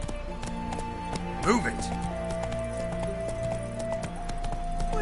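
Roach the horse gallops in The Witcher 3, a steady clip-clop of hooves running under game music and a spoken voice, with a brief whinny-like rise partway through.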